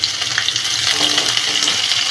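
Finely chopped onions frying in oil with dried red chili over a medium flame, a steady loud sizzle with soft stirring, close and continuous.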